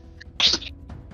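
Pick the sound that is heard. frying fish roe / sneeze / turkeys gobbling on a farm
sneeze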